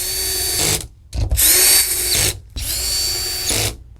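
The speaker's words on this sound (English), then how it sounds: "if you decide to use a drill, keep in mind you want to use one with a clutch on it" A power drill with a clutch drives screws while a TV is being mounted, giving three loud, close whirring bursts of about one second each, separated by brief pauses.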